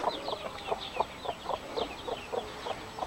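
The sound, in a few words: turkeys on a farm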